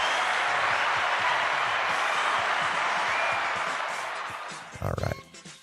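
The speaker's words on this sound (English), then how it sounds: "Let's give him a round of applause." Audience applause and crowd noise in a live arena as a guest musician enters, a steady wash of clapping that fades out toward the end before a short burst of louder sound.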